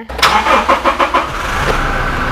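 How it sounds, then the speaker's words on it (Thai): The diesel engine of a Toyota Hilux Revo pickup truck cranks over with several rhythmic starter turns, then catches and settles into a steady, rumbling idle up close. "อันนี้เป็นเครื่องยนต์ดีเซลนะคะ ลูกค้า เครื่องยนต์ดีเซล"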